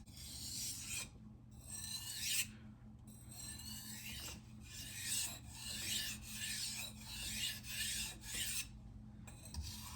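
A knife is sharpened on a coarse natural whetstone in continuous back-and-forth gritty rasping strokes, some firmer and louder, others lighter and softer. The scraping is close and steady with brief pauses between passes and no talking.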